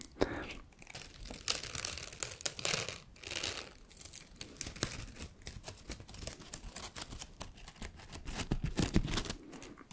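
Tape ripping and crinkling in a steady stream of sharp crackles and tearing bursts, close by and fairly quiet, with no talking.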